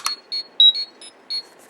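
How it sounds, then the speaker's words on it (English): Bandai 2013 Power Rangers Legacy Power Morpher V2 toy giving its communicator sound, a set of short, bright electronic beeps in an uneven pattern, close and clear over near silence. "you hear the communicator beep"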